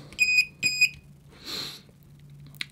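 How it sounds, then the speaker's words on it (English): A cheap LiPo battery tester sounds its alarm in two loud, shrill electronic beep bursts close by, followed by a brief hiss and a faint final chirp. "the alarm, the noise it makes is so loud"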